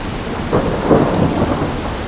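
Thunderstorm with steady rain, a continuous hiss of rainfall with low rolling thunder swelling a few times across a couple of seconds, fairly loud and close, with no voices.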